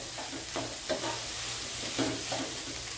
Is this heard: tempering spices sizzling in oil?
yes